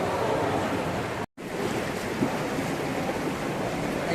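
Dead Sea water washing at a bathing beach at the lowest place on earth, a steady broadband wash of surf with wind noise on the microphone, continuous and fairly loud apart from a brief dropout near the start.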